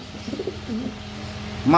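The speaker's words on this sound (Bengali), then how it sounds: "এক জোড়া এক্সিবিশন, খুব সুন্দর কোয়ালিটিফুল কবুতর" A pair of exhibition pigeons coos softly and repeatedly nearby, with low rolling calls and a louder, fuller coo at the end.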